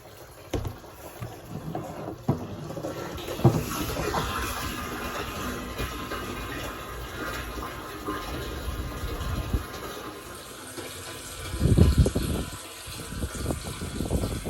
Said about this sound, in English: Time to turn the water on.